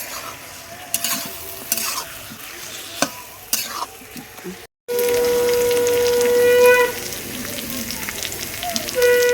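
Crackling sizzle of small mutton pieces frying in a wok over a wood fire with scraping stir strokes, then a steadier loud sizzle after a brief gap.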